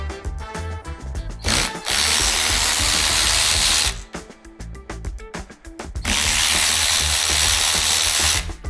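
A cordless rechargeable ratchet spins loose bolts on a 2024 Kawasaki KLX300 dual-sport motorcycle in two loud, sustained whirring runs, separated by quieter clicks and handling noises.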